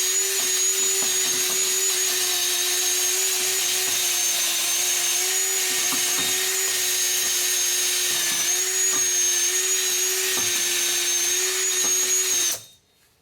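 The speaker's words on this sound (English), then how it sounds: "So I'm gonna use this wire brush to clean this." A powered wire brush cleans the rear bearing flange of a Hyundai Santa Fe, giving a loud, steady high-pitched whine with scratchy grinding throughout before it stops abruptly at the end.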